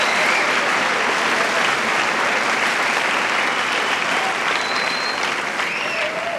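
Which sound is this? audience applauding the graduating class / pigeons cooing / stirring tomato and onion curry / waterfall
audience applauding the graduating class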